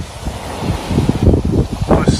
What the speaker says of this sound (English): Wind hasn't dropped, if anything it's gone up a bit.